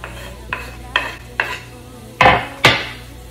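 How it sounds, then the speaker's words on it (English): Spinach sautéing in a pan for a hot salmon and spinach dip, heard as about six distinct stirring scrapes and knocks against the pan at a steady pace, over a low background sizzle and hum. "Saute that for a few minutes"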